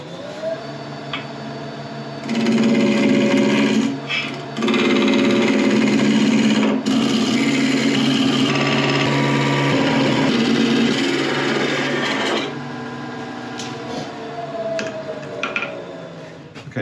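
A wood lathe spins a beech spindle while a tool cuts it round, giving a steady, loud whirring scrape with a few short pauses and shifts in tone before the cutting eases near the end.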